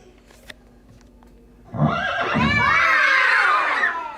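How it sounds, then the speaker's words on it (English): A horse gives a loud, drawn-out whinny that rises and quavers for over two seconds after a quiet start, part of a children's letter-learning program. "So we have a horse."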